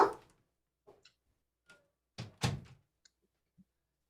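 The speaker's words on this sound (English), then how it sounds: "Let me close the door." A door is shut with a solid thunk in a quiet home office, with a few softer knocks and taps around it and no talking.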